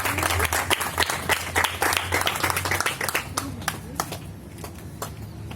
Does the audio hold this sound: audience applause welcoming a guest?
yes